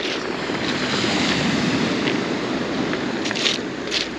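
Moderate sea waves wash steadily onto the shore at Lazarevskoye near Sochi on an overcast day, a continuous broadband surf roar with light wind noise and a few brighter splashes near the end, and no voices.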